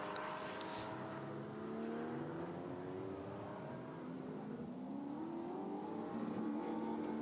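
A V8 GT4 race car engine rumbles steadily at a distance during qualifying at the Nürburgring, its pitch rising and falling as it revs and accelerates, with no voices.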